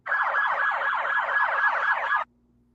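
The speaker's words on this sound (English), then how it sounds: "there were sirens going off" An emergency siren wails at a protest, a loud, steady rising-and-falling cycle repeating about every quarter second for roughly two seconds, then cutting off abruptly into near silence.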